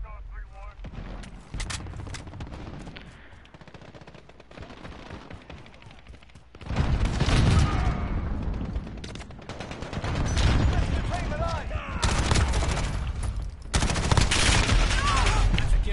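SMG gunfire in the Call of Duty Modern Warfare beta: rapid bursts and heavy firefight noise that swell loud partway through, mixed with a talking voice.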